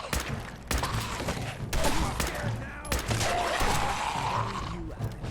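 Fallout 4 combat fills the space with repeated gunshots cracking at irregular intervals over a dense, continuous wash of battle noise and creature growls, with no clear speech.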